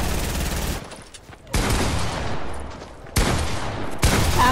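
Heavy shotgun blasts in a video game, a few loud broadband bursts close by with brief gaps between them and no talking.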